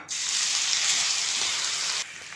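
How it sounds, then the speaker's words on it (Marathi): Crushed green chilli thecha hits hot oil in a pan for a fasting-day thali, bursting into a loud, steady sizzle that holds for about two seconds and then cuts off abruptly. "तसंच या गरम तेलामध्ये आता आपल्याला बारीक केलेला ठेचा टाकायचा आहे"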